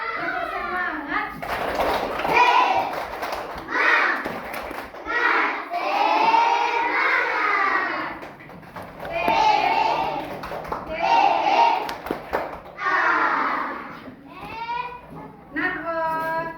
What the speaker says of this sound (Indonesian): kita SBK dulu ya dengan tepuk semangat